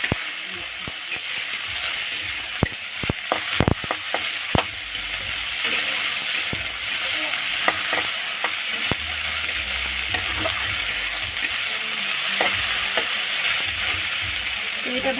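Two medium-sized onions fry in a pan with a constant, close sizzle, broken by sharp scraping clicks and knocks as a utensil stirs them at irregular intervals.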